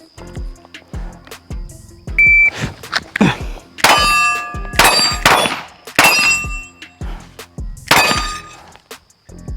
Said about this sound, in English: I'm gonna shoot 5 rounds,